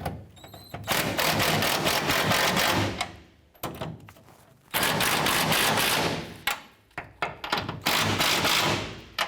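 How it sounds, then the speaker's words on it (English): Impact wrench or ratchet driving a 19mm socket on rear bumper bracket bolts of a 1993-1997 Ford Ranger, heard as loud rapid mechanical rattling bursts of a few seconds each, separated by brief pauses. "We're going to use our 19mm socket. We're going to tighten down our nuts and bolts here for our bracket to the frame."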